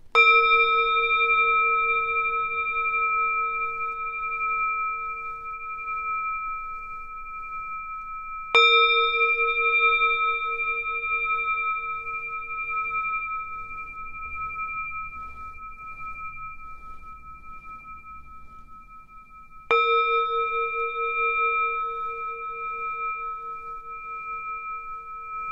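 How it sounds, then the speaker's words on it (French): Tibetan singing bowl struck three times, each clear ringing tone sustaining and slowly fading in a quiet room before the next strike. "on va commencer par purifier les énergies de chez moi et de chez vous. Avec mon bol tibétain."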